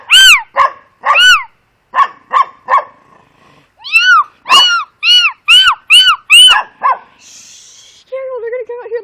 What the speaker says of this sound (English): who the frick is barking at my dog?